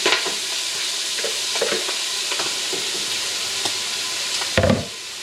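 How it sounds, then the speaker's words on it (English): Chopped vegetables for a homemade chili sizzle steadily in a hot frying pan, a continuous close crackling hiss with a few stirring scrapes and a louder clatter near the end. "I'm going to drop them in the pan."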